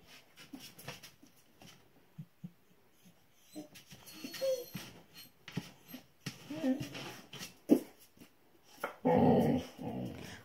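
A Dalmatian dog growls, whimpers and lets out short wheezy yips and a louder bark burst toward the end, close by, with a person talking in between.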